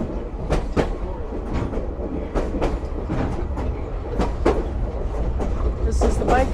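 A train rolls through a rail yard on the Lehigh Gorge Scenic Railway, heard from inside the caboose, with steady low rumbling and repeated clickety-clack wheel beats over rail joints, close and loud.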